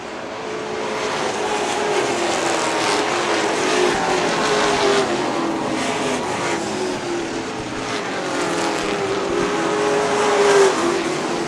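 Late model race cars lap Wiscasset Speedway, engines droning steadily as the pack passes, a continuous loud roar that rises and falls across the run.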